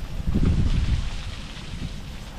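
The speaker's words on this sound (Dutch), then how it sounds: "Het regent pijpen stelen." Heavy rain falls outdoors in a wooded national park, a dense close wash of noise with a low gusty rumble that swells briefly and then settles, no voices present.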